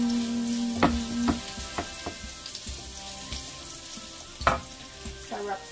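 Garlic frying in olive oil in a pan, a constant soft sizzle broken by several sharp utensil taps and scrapes, one louder clack near the end.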